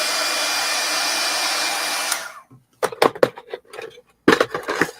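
A hair dryer blows steadily on a damp chemical-free cleaning sponge, similar to a melamine eraser, a loud continuous whoosh for about two seconds before cutting off, followed by scattered handling knocks and rustles.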